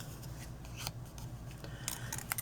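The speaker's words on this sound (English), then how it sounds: "this one I'm just going to cut 2 petals off" Scissors snip petals from a punched green cardstock flower, giving a close run of quick, crisp cutting clicks and paper rustles.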